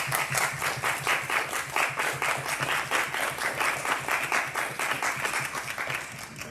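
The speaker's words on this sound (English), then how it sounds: "Let us again give an applause for Russ Wigginton." An audience claps for a speaker, Russ Wigginton, in a dense and sustained round of applause from a crowd of many hands. The clapping holds loud and even from start to finish.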